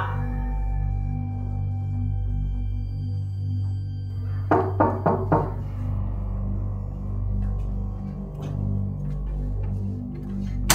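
A quick burst of about four knocks on a door rises over a steady low background hum, then the room settles back into quieter ambient sound.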